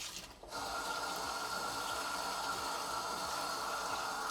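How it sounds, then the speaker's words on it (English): A leek rinsed under a running kitchen tap, the water cutting in after a short pause and then pouring in a constant close rush, with no one talking. "I'm going to rinse that really well because you'll find that it holds sand in the leaves."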